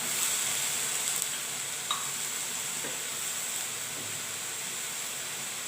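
Brinjal and green gram stir-fry cooking in a pan with a steady loud sizzle and hiss, plus a few faint stirring clinks, with no talking.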